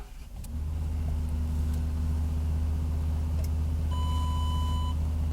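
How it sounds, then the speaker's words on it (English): A 2012 Ford Expedition SUV engine cranks and catches, then settles into a steady, low idle close by, with a brief electronic beep chiming near the end. "Very nice sounding engine."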